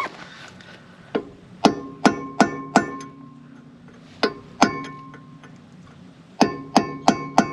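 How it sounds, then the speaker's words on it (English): A brass punch strikes the stud ends on a Land Cruiser 80 Series hub during CV joint replacement, with sharp metallic hammer blows in short bursts of two to four hits and pauses between them. "Can hit the ends of the studs using a brass punch."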